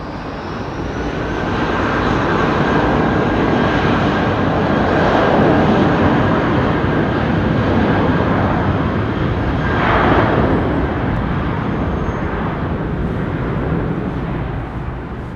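Rolls-Royce Trent 700 jet engines spool up at Heathrow with a loud, steady roar and a rising turbine whine that builds and holds for several seconds, with no talking.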